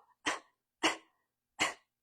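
Three sharp coughs, evenly spaced about half a second apart, close and in otherwise silent surroundings.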